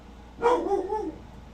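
A dog barks once on command, a single short close bark with a brief whine-like tail, against quiet room background.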